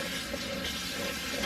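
Water is poured out of a mixing bowl in a home kitchen, a steady broadband splash and gush that runs loud and continuous for the whole moment with no talking over it.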